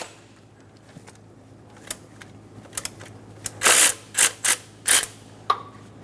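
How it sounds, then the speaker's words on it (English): A ratchet with a 14mm socket loosening the alternator bolt on a 1994-1997 Honda Accord 2.2L, a few faint ticks early on, then several loud close clicking bursts in quick succession. "loosen the bolt for the alternator"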